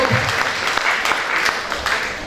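Audience applause at a fashion show, dense and steady clapping from a crowd throughout, fairly loud and close with no pause.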